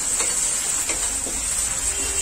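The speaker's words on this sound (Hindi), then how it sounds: "मैं इसमें कैप्सिकम डाल रहा हूं एक छोटी कटी हुई, इसको भी अच्छे से भून लेंगे" Chopped capsicum fries with onion and ginger garlic paste for baingan bharta, a steady moderate sizzle with a few soft stirring scrapes.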